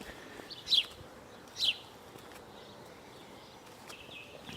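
Birds call outdoors along a quiet path on a grey day, two short, faint chirps standing out against soft, steady background hiss.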